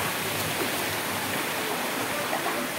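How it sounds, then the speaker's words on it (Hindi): Steady broadband rush of a water park waterfall pouring onto a sloped play area, continuous and fairly loud with no pauses, and no clear voices above the spray. "झरना।"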